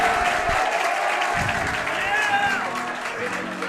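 Spectators at a boys' high school ice hockey quarterfinal roar and applaud steadily after a player is knocked down by a big body check, a dense, sustained rink crowd cheer with a few whistles rising above it.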